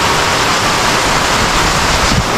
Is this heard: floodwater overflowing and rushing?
yes